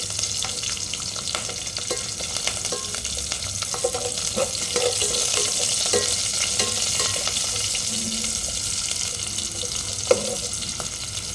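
Green chillies fry in a pan of oil while cooking gongura rice, giving a steady, close sizzle that keeps up throughout, with light scraping from stirring and a sharp clink near the end.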